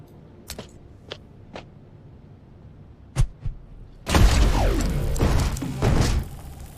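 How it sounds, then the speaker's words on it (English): An EMP grenade is thrown in the video game Mutant Year Zero: a few light clicks and thuds, then a sudden loud burst at about four seconds that sustains as a dense crackling electronic wash, with no talking. "I'm going to go ahead and have him throw the EMP grenade"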